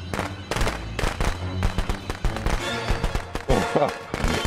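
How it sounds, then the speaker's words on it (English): Firecrackers in the Friday the 13th game crackle in a rapid, uneven string of sharp pops, loud and close, with voices and game sounds mixed in. "Yeah, it's those firecrackers, Jason."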